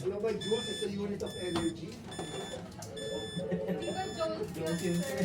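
Repeating electronic beeps from a clinical monitoring system alarm, steady tones sounding under ongoing conversation between people in the room.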